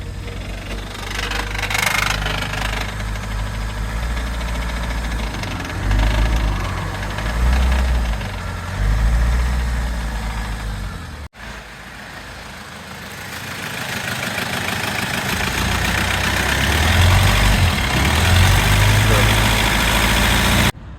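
A lorry's diesel engine idles roadside near the town of Khorol, giving a steady, loud, rumbling drone with low-frequency knocking throughout, briefly cut once midway, then continuing; no clear talk over it.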